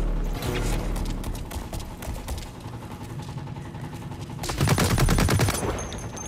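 Gunfire from hip-fired weapons in the video game Blacklight rattles in fast, dense bursts, growing louder toward the end of a one-on-one match.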